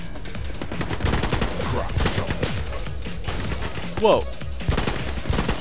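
Rapid assault rifle fire crackles in bursts during a shooting match in The Club, loud and continuous with a brief exclaiming voice over the gunfire.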